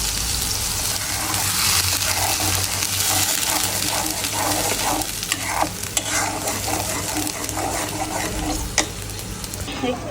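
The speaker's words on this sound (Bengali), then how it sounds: "এটা হলো একটু ভাজা ভাজা করব" A blended spice paste fries and sizzles in a very hot pan while a spoon stirs it, producing a steady loud crackle with repeated scraping strokes throughout and no talking.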